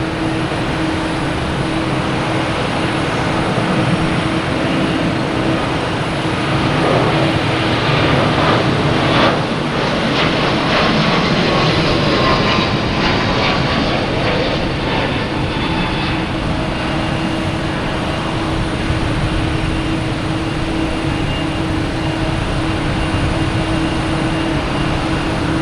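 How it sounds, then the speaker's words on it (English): A Delta Airbus A321neo takes off from Boston Logan Airport, bound for Phoenix. Sustained, loud jet engine roar runs throughout, with a broadband rumble that swells slightly in the middle. "Another Delta taking off, heading to Phoenix, A321neo."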